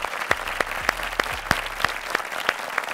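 A small group applauds at the end of a completed workout session, sparse sharp claps with a few louder hits spaced roughly evenly over a low background hum, nearby and fairly loud.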